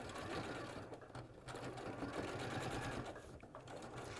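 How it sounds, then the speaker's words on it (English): A domestic sewing machine stitches through two layers of fabric, probably with a walking foot, in a steady fast whirring run that stays constant throughout at moderate level. "You are sewing through 2 layers of bowsel at this stage as well, so you might want to use your walking foot."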